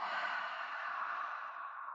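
A long, steady exhalation out through the mouth, a soft airy rush held evenly for about two seconds, close and alone without any talk.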